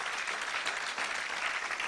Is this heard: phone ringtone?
no